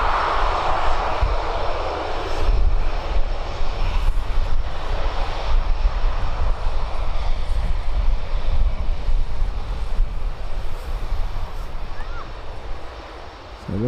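A Loganair turboprop taxiing along an airport taxiway, a steady close engine drone with wind buffeting the microphone, continuous throughout.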